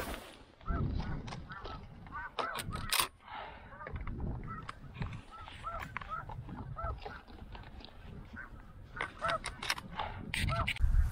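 A flock of snow geese honk repeatedly in a hay field during a goose hunt, many overlapping calls near and far, with occasional speech mixed in.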